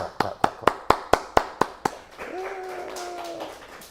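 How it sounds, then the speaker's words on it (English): Eight sharp, evenly spaced hand claps ring out close by, followed by a short tonal sound and faint background noise; it is a rhythmic clap sequence rather than a crowd applauding. "Clap, clap, clap, clap."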